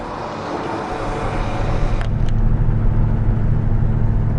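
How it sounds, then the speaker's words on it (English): A 1966 Ford Mustang cruising through town on a Sunday, its engine a steady low rumble heard from inside the car with road and wind noise. A couple of faint clicks come near the middle, and nobody speaks. "Cruising along on a lovely Sunday day in a 66 Mustang"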